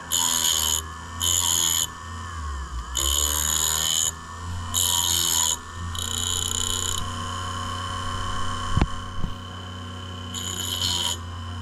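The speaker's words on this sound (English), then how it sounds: "So we'll keep trimming a little off the ring" A piston ring for a Ford 445 FE engine is trimmed with a file, producing loud, close, repeated rasping strokes in a steady rhythm of separate bursts, with a low hum between them and no talking.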